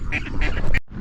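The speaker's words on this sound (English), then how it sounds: "Geese seem to be a big feature." Geese at a park give several quick nasal honks in bursts, fairly close, over faint outdoor background noise.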